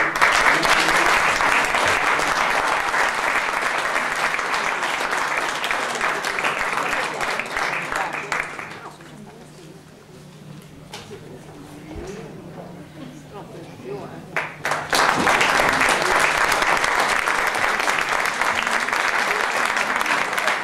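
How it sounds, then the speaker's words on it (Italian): A concert audience applauds before a chamber performance of flute and string quartets, a steady full wash of clapping that dips into a quieter stretch midway, then swells back to loud sustained applause. "l'abbiamo già ricordato con questo meritatissimo applauso"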